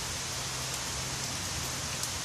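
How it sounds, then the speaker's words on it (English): Steady rain falls on a rainy day in Jamaica, an even, dense hiss of drops on surfaces with a low background rumble and no voices. "Sound of the raindrops sound so wonderful, so relaxing."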